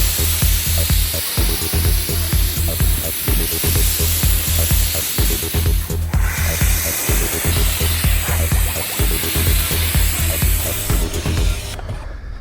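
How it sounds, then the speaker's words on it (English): A battery-powered Muc-Off mobile pressure washer sprays an e-bike, a loud, steady hissing jet with a motor hum underneath, running continuously up close before cutting off at the very end. "I was impressed with how much power the pressure washer actually had. It wasn't powerful enough to cause any damage, yet it was still plenty powerful enough to blast off the dirt"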